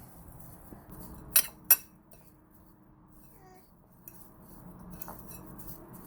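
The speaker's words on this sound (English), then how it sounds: "continue to mix it" A utensil mixing salt in a bowl while preparing Dungeness crab, giving two sharp, close clinks in quick succession, then soft faint scrapes and a few lighter taps against a quiet background, with no talking.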